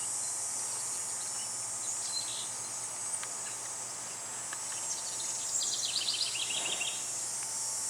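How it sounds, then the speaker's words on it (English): Steady high insect drone, likely cicadas, fills a summer garden as a continuous faint background hum, with a few brief bird chirps rising over it toward the end. "I think in the background right now, I want to say those are cicadas humming away"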